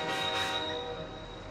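A train in the suburbs arriving and coming to a stop, a loud continuous rumble with a steady high tone, the noise easing slightly as it slows.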